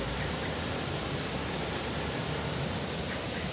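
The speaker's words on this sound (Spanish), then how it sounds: "Este es el famoso sonido del agua." Jungle water flowing near Puyo in Pastaza, Ecuador, heard as an unbroken, even roar of rushing water, close and steady for the whole short stretch without any voices.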